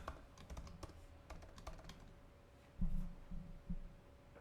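Keys tapped on a computer keyboard as a password is entered, a quick run of light clicks near the mic over a low hum, followed by a few heavier, louder key presses.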